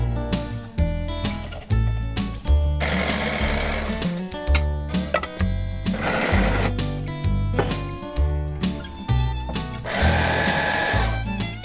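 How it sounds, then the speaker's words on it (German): An electric blender whirs in three short bursts several seconds apart while blending basil leaves, with steady rhythmic mechanical tones between them. "hier müssen wir den Mixer noch ein paar Mal anschmeißen"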